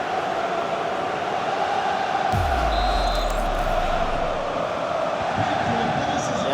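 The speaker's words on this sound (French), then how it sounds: "c'est le bruit du ballon qui tape dans les filets." A dull thump of a football striking the goal net, rising briefly over the steady roar of a large stadium crowd.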